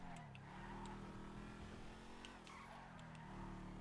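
Video game race cars skid with repeated tire squeals over a continuous engine roar, several short screeches spread across the stretch, loud and close.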